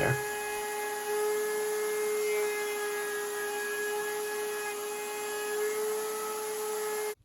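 A router table motor spins at a steady, loud whine with a constant hum for several seconds while a 45-degree chamfer is cut on the wooden head of a mallet. It stops abruptly at the end.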